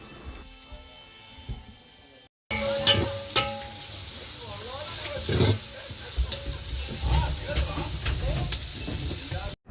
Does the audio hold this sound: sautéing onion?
yes